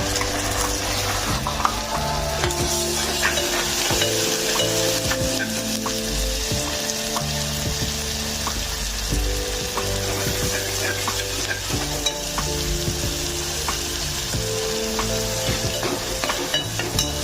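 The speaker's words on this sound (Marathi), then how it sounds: "हा कांदा नीट परतून घ्यायचा आहे" Onion and ground masala paste fry loudly in a pan for a curry-style chicken rassa, a steady close sizzle broken by frequent scraping stirs, with no talking.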